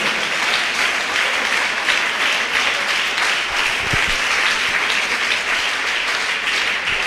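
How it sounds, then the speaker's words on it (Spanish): Church congregation applauding loudly and steadily throughout, a dense wash of clapping from a large crowd with a faint voice briefly under it. "El aplauso es para Él, déselo más fuerte."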